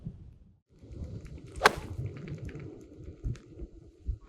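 A golf club strikes the ball solidly with one sharp, loud crack partway through, set against quiet outdoor background noise with soft scuffs before and after.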